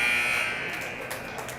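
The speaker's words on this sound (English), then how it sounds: "the buzzer sounds, bringing us to the end of the first period" An ice hockey arena buzzer ends the first period of a youth game between Eagan and Rochester, one loud sustained electronic blare that slowly fades across the rink with no talk over it.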